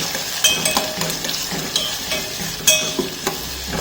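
Green chillies fry in a pan with steady sizzling and occasional scraping stirs, close and alone.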